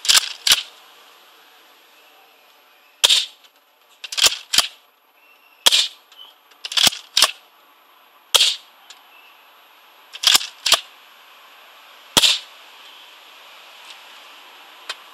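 A Nerf Mega Cycloneshock blaster fired repeatedly outdoors, giving sharp, loud snapping shots, often in close pairs, spaced a second or two apart against near silence.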